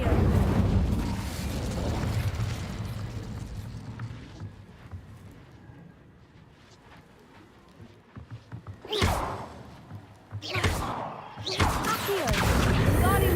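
Incendio fire spell cast in Hogwarts Legacy, with a fiery whoosh and crackling bursts; a rumbling swell fades into quiet before two sharp, loud flaring blasts near the end.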